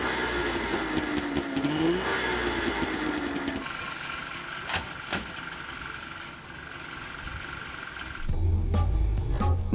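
A DKW F12 Roadster's two-stroke engine runs steadily and loudly on its own, with an even buzzing note and a brief change in pitch partway through.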